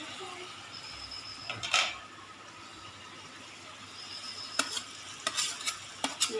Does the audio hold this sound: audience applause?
no